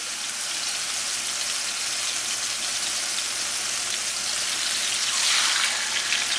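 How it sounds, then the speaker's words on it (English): A steady, hissing sizzle crackles continuously as meat sears in a hot skillet, loud and close with no voices. "Listen to that sizzle."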